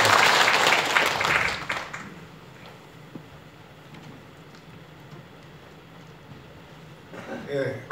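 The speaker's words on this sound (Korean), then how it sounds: "박수 한번 다시 한번 부탁드립니다" An audience at an academic debate on North Korea claps briefly, loud for under two seconds before trailing off into room hum, with a short rustle of noise near the end.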